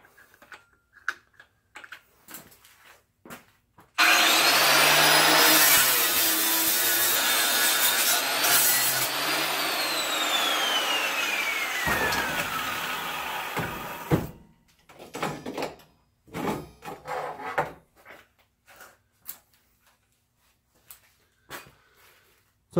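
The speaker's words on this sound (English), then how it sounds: "So I'm grinding it off." An angle grinder bites into metal to strip mill scale from wine rack parts, a loud harsh sustained grind with a rising and falling whine lasting about ten seconds, framed by scattered clanks and handling knocks before and after.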